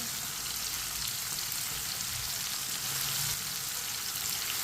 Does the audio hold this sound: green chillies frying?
yes